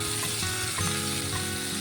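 Onions and green chillies fry in a pan with a steady, loud, close sizzle that runs without a break, and a faint stirring scrape sits under it.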